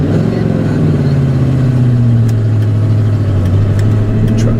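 A truck engine rumbles loud and close with a low, slightly wavering drone that sags in pitch as if losing power, with a few faint clicks on top.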